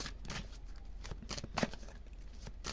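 Oracle cards are shuffled softly and close up, a quiet run of papery riffling and flicking taps.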